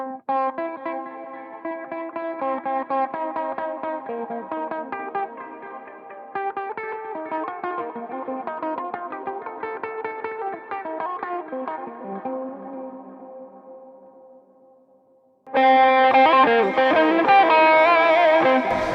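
Notes picked one by one on a Clearwater solid-body electric tenor ukulele through a clean tone. A pause near the end gives way to a louder, brighter passage of chords and notes, with no voice.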